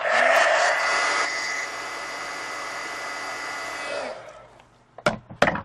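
A heat gun blows a steady, loud hiss of hot air to dry marker ink on a coloring book page. It runs for about four seconds, then cuts off, and a few short knocks follow.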